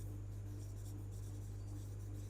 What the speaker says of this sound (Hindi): अरे गलत तो चलो हिंदी में लिख दे रहा हूँ